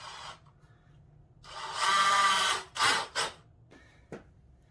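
A power drill fitted with a right angle attachment drives into wood on a farmhouse console table, with a long whirring burst and then two shorter spurts, close and loud, with quiet gaps between them.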